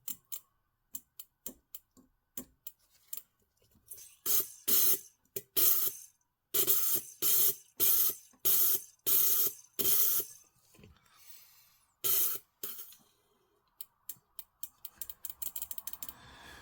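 A fuel injector from an LS-swapped GMC Vandura sprays during cleaning, giving sharp, repeated bursts of hissing spray, some short ticks and some longer pulses, in irregular clusters with quiet gaps between, close and fairly loud.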